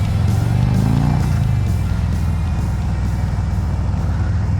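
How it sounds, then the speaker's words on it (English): A 2019 Harley-Davidson Road King Special with Rinehart aftermarket slip-on exhaust, its V-twin rumbling loud and close with a deep throaty pulse that rises briefly, then settles into a steady idle-like drone. "this particular bike has been fitted with Reinhardt slip-on, aftermarket slip-ons, and this bike sounds fantastic"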